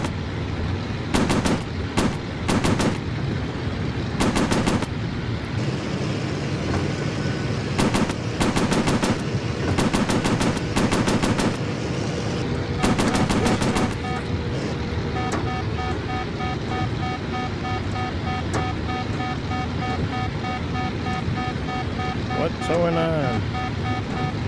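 Warplane machine guns fire in rapid bursts in the VR air combat game Warplanes: Battles Over Pacific over a constant roaring engine drone, repeating through the first half, then tapering into steady engine noise.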